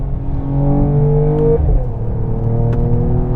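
A Mercedes-AMG E 53 engine downshifts on the overrun along an open road, a loud, close, droning engine note that drops in pitch partway through, with faint pops, no voices.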